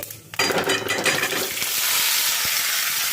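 Steamed jackfruit tipped into a pan with whole cumin, cinnamon and cardamom, a clatter of pieces landing followed by a strong, steady sizzle that fills the rest of the clip.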